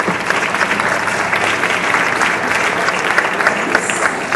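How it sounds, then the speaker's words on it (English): Sustained applause from an audience thanking two judges at a school English project event, steady dense clapping throughout with a faint crowd murmur underneath. "So clap for them, please,"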